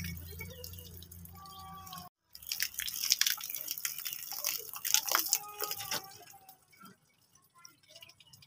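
Reddish, dirty water splashes and trickles out of a tractor radiator in a gushing stream, with dripping and bubbling sounds that fade to scattered drips; a low running-engine hum sits underneath at first.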